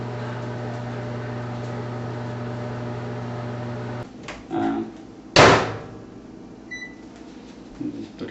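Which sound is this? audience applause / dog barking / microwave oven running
microwave oven running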